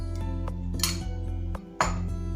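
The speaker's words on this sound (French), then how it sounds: "j'ai ici 4 œufs que je vais mélanger avec une grande cuillère de yaourt nature" A spoon mixes four eggs with plain yogurt in a bowl, with light clinks and scrapes against the bowl over a steady low hum, close and fairly quiet.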